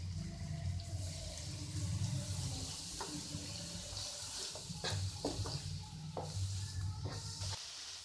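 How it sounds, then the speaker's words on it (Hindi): Water poured into a hot pan of sizzling chicken masala makes a steady hiss and bubbling rush, with a few sharp clinks of utensils, close and continuous. "थोड़ा सा पानी डालेंगे इसमें"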